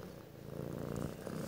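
A cat resting on a person purrs softly and steadily, a close, low rhythmic rumble heard alone in a quiet room.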